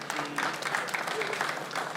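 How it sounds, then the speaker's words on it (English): Audience clapping at a comedy stage show: dense, steady applause fills the full two seconds, with faint voices mixed into the crowd noise. "I be gonna clap for that senator"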